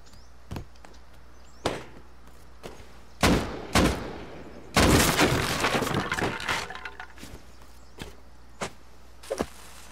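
Sharp explosive blasts and cracking bangs of C4 charges detonating during a raid in the video game Rust, scattered and uneven, with a dense cluster of detonations in the middle.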